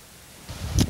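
Wind buffeting a microphone outdoors in a city, quiet at first and then swelling into a loud rumbling gust near the end.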